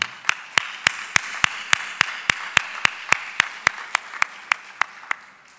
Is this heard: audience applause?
yes